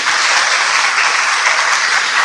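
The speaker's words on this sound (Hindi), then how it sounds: "तो अपने भाग्य के लिए तालियां तो बजाइए" A large crowd at a Brahma Kumaris spiritual gathering in Shahabad Markanda claps steadily, a loud, even wash of applause with no breaks.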